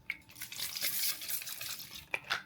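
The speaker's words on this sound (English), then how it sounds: "I'll go with my spring water spray" Spring water facial spray hisses in a few short bursts close by, a soft airy spritz with quick pauses between sprays and no talking.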